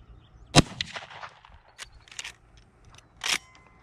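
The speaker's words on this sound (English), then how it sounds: "So let's put three rounds on target here." A .44 Magnum carbine is fired from a tripod rest at an outdoor range, with sharp, loud reports spaced a couple of seconds apart and quieter mechanical clicks between them.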